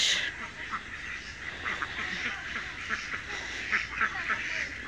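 Ducks quack steadily in an outdoor spot, with a continuous busy murmur of calls under a broad, noisy background at moderate distance.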